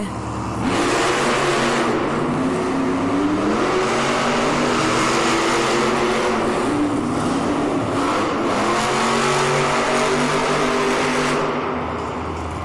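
Monster trucks roar through a Monster Jam arena race in Kansas City, engines revving hard and continuously with shifting pitch for the whole stretch, loud and close over a crowd-filled indoor space.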